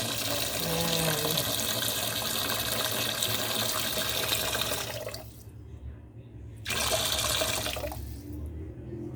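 Water pours steadily into a cooking pot while a pork sinigang is being made, a loud continuous gushing that briefly stops for about a second and a half before the pour resumes.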